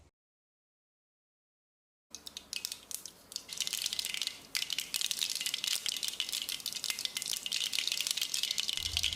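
Mustard seeds splutter and pop in hot oil in a pan, a dense, crackling rattle that starts abruptly after silence and grows louder and steadier, heard alone without any voices.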